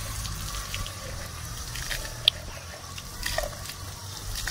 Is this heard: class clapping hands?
no